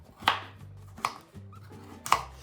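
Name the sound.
knife cutting pumpkin squash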